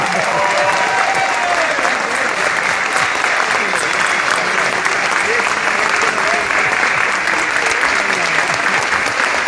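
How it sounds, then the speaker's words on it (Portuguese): Audience at an OAB award ceremony gives warm, sustained applause for Cláudio Aparecido da Silva, a loud, even roar of many hands clapping throughout, with faint voices beneath. "Eu peço uma calorosa salva de palmas para Cláudio Aparecido da Silva."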